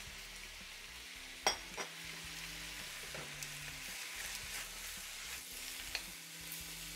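Pineapple pieces with their juice sizzling in a wok, a soft continuous frying hiss with occasional sharp clinks of a utensil against the pan, heard alone.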